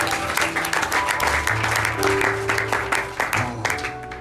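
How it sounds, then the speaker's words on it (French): Audience in a church service applauding and cheering for the Lord, sustained loud clapping from a crowd with steady sounds of instruments underneath. "On peut acclamer pour le Seigneur."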